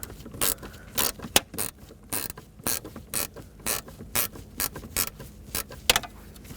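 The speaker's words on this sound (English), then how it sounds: "we're going to go in for our last bolt, which is up here with an extension and an 8mm socket." A ratchet with an extension and 8mm socket turns a bolt inside the dash of a 2000-2007 Ford Taurus: repeated close clicking bursts in an uneven rhythm, with short pauses between strokes.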